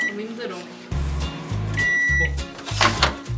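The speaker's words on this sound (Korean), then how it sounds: "전자레인지로 해보자" Microwave oven running while making tanghulu with strawberries and sugar in a home kitchen, a loud low hum that cycles on and off in pulses, with a bright beep and people talking over it.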